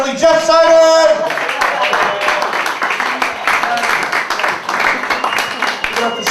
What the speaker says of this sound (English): We ought to give a nice round of applause.